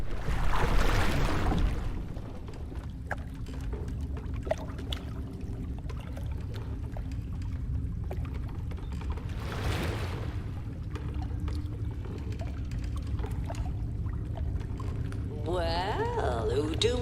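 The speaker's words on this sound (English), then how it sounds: "Now we get to enjoy a little boat trip." A small boat glides across water in the co-op puzzle game We Were Here Expeditions, with a steady low rumble and gentle lapping beneath intermittent talk, and a brief swell of water noise near the start and middle.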